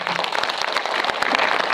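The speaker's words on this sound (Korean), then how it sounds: "박수 부탁드립니다" An audience at a family preview screening of the Korean film Moving On bursts into steady, dense applause, a continuous patter of many hands filling the room.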